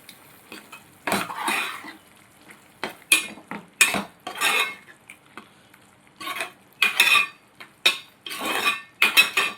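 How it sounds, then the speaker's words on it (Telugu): A spoon stirs small Godavari prawn curry in a pan just after chili powder goes in: intermittent scraping and clanking strokes in uneven bursts, with a light sizzle between them, close and fairly quiet. "కారం వేసుకుని ఒకసారి కలుపుకోవాలండి"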